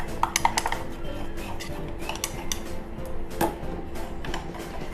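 A spoon stirs a shampoo bar soap mixture in a pot, producing rapid clinks and scrapes of metal on metal close up, steady for the whole few seconds, with no one talking.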